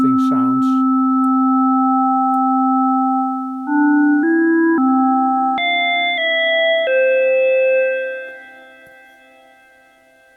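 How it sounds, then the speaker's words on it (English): Sine oscillator in VCV Rack run through ring modulation, producing clean steady electronic tones that step abruptly to new bell-like pitches every half second or so, loud and alone, then fading near the end. "by using the same frequency, you actually get into the realm of ring modulation"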